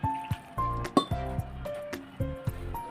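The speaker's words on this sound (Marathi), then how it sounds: "यात थोडं थोडं पाणी घालून घट्ट मळून घेऊया." Chickpea flour dough mixed with hot ghee is kneaded by hand as small amounts of water are added, giving close, intermittent wet squishes and sticky slaps in an uneven rhythm.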